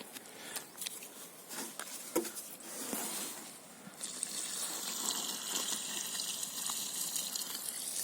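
Water is poured from a bucket and a watering can into a hole in a garden, gushing and splashing close by, then running in a steady stream.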